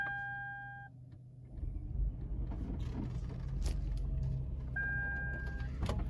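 A hybrid car's engine starts up during front wheel drive maintenance mode after an engine and transmission swap, a low rumble building in and running steadily, with electronic beeps at the beginning and again near the end.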